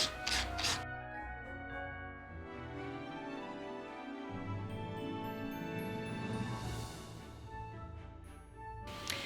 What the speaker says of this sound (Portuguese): E aqui é só tirando assim o excesso com a lixa.